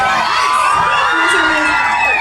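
A concert crowd at a live show in Sydney cheers, whoops and shouts, with children's voices mixed into the roar. The noise is loud, dense and steady for the whole stretch.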